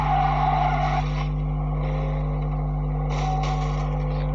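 A car engine revs and accelerates in the Car Simulator 2 video game, a loud steady motor drone with a rising whine at the start and again near the end, without speech.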